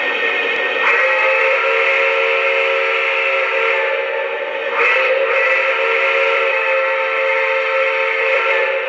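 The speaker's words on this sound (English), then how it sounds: "we've got 5 whistles." A sustained, steady whistle from a Lionel brass hybrid Challenger model steam locomotive blows loudly and continuously, briefly dipping and restarting near the middle before carrying on to the end.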